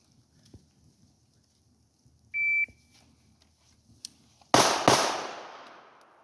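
Two sharp, loud gunshots fire in quick succession during an outdoor shot timer drill in the rain, shortly after a brief electronic timer beep, with a rumbling echo trailing away.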